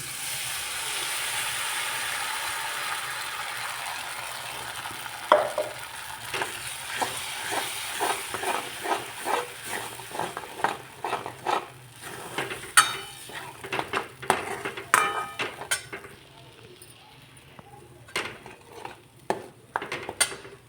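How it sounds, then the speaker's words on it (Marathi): Ground spice paste is added to hot tempering in a pan while cooking gram-flour pithla. A hiss of frying at first gives way to a long run of uneven metallic scrapes and clinks from a spoon against the pan, close up. "त्यामध्ये आता आपण वाटलेलं वाटण घालू."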